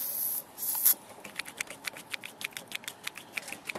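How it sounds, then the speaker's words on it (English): A short hiss of WD-40 sprays into a courtesy door light switch on a Toyota Tarago/Previa/Estima, followed by a string of small, close clicks and taps. "fill it up with WD as well"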